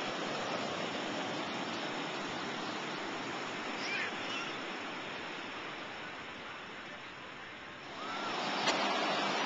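Ocean surf rolls at a Santa Cruz beach as a steady broadband wash of breaking waves, fairly soft and continuous, swelling slightly near the end.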